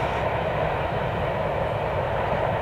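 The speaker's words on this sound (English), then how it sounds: "Kind of a nice little thing to see, a Tier 4 SC70" CSX freight train led by a Tier 4 SC70 locomotive with KCS units trailing, passing as a steady, loud broadband rumble and roar without pause.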